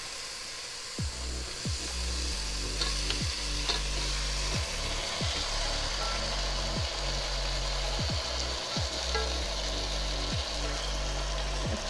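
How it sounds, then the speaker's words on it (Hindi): Chicken pieces frying in a little oil with spices for chicken karahi, with steady close sizzling throughout and repeated scraping knocks of a spoon stirring the pan, roughly every second; no talking. "इसको हम अच्छे से भूनेंगे, अभी हम इसमें चिकन ऐड कर देंगे।"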